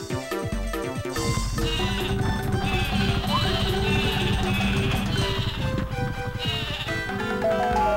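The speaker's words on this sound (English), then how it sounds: "let's go ahead and use our Sleepy Sheep" Synthesized bleating from the Sleepy Sheep item in Paper Mario over busy electronic music, with repeated pitched sheep-like calls layered into the melody.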